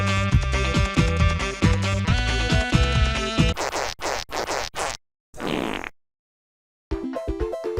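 A song from the video game Sugoi Gebereke plays loud and busy with bright, buzzy chiptune-style tones, then breaks into choppy bursts, drops to silence for about a second, and resumes.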